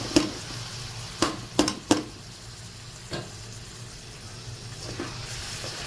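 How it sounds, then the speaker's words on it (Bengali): Polao rice goes into a pot with hot oil, bay leaves, cardamom and cinnamon and is stirred under a soft, steady sizzle, with a few close spoon clatters early on and a fainter knock later. "আমি পোলাও চাল দিয়ে দিচ্ছি"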